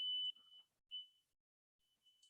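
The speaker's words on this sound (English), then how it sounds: "you should get beeps and a check mark" A continuity tester gives clean, high electronic beeps as the circuit is connected, a long tone, then a short one, and a final beep after a pause, close and isolated in a quiet room.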